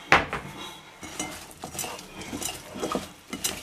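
Spoon stirring oiled, salted food in a dish, several light scraping and clinking strokes close by with no talk.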